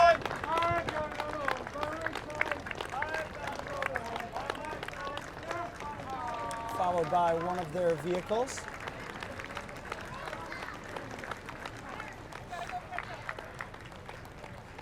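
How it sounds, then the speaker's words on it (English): A parade crowd at the Great Michigan Parade in a Michigan town applauds and cheers steadily in the open air as the 82nd Airborne Division passes, with a commentator talking over the continuous ovation. "we see this group now getting a standing ovation from the crowd"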